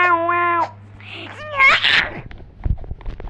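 A cat in a Roblox game gives a few high, drawn-out meows up close, followed by shorter squeaky calls and scattered clicks and taps.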